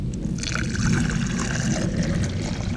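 Water glugs and splashes as it pours from a gallon jug to make coffee at a lakeside campground, a close, steady stream lasting a few seconds with no talking.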